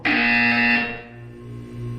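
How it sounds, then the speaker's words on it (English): A loud electronic buzzer tone from the game Portal 2 holds steady for under a second, then a lower, softer hum lingers and swells slightly. "You will hear a buzzer. When you hear the buzzer, look up at the ceiling."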